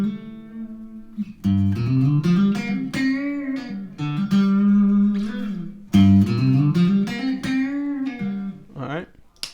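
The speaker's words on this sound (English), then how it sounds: "this is just the guitar and reverb" Electric guitar notes ring out in phrases with a wide, washing reverb tail, sliding and sustaining, with brief pauses between passages.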